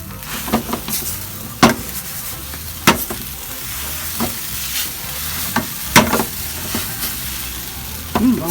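Vietnamese egg noodles with spring onions sizzle steadily in a pan while a utensil stirs and scrapes them in irregular, close, sharp strokes over the constant frying hiss.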